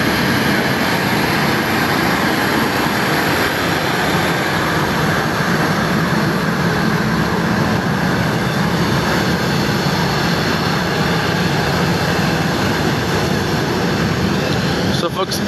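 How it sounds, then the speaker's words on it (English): A Kenya Airways jet carrying the Liberian president departs, a loud, steady broadband engine roar sustained throughout with people talking over it. "that is the flight that carrying His Excellency President Joseph Newman Boakai and his entourage to South Korea"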